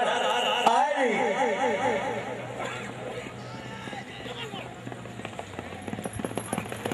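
A racing horse's hooves clatter in quick rhythmic beats at a crowded horse race event in Kharian, partly masked by a loud announcer's voice and crowd noise throughout.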